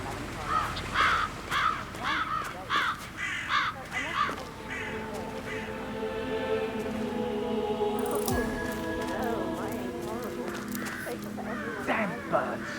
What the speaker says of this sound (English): It's birds. They're making a racket.